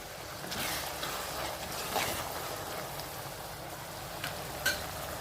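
Onions with a little salt sizzle and crackle in a hot pan for chicken gravy, a continuous frying hiss with occasional stirring scrapes, close and fairly loud, no talking.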